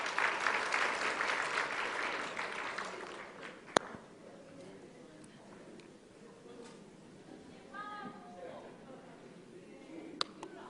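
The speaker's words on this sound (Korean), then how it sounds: "박수로 쉬겠습니다." Audience applause at a church teachers' lecture, a dense patter of clapping for the first few seconds that fades into room murmur, with a couple of sharp clicks later.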